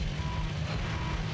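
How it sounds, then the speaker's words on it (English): Electronic beeping music track from the Hot Wheels Mechanix video game, a flat, repetitive relay-like tone pattern over a steady low drone, continuous and moderately loud with no voices. "And now we come to the part of the music track that's just beeping."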